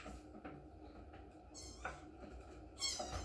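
A house cat meows twice, faint and somewhat distant, each call a short rising cry over a low background rumble and quiet room noise.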